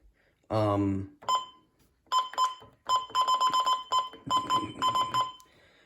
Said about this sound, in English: The button beeps.